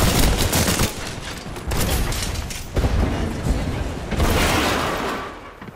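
Dense video-game gunfire with smart-bullet shots and shield recharging, rapid bursts and booms filling the mix, loud and close throughout with brief lulls between volleys.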